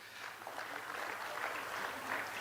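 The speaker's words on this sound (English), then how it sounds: "let's give the healthcare workers in Gauteng a big round of applause." Faint, steady wash of applause from a distant crowd at a NEHAWU union gathering, saluting healthcare workers in Gauteng, a continuous even patter without distinct individual claps.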